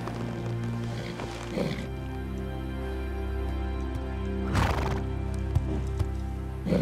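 A horse whinnies loudly near the start and again mid-clip, with scattered hoof clip-clops and shuffling over a steady low background hum.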